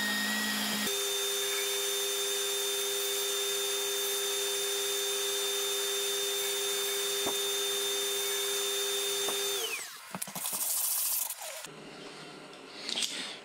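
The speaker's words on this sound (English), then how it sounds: "I'm going to sand the bottom of this off first" A power sander works the bottom of a round epoxy resin junk bowl, a steady loud whine with a constant tone that runs nearly ten seconds, then stops and gives way to brief scraping and handling noises.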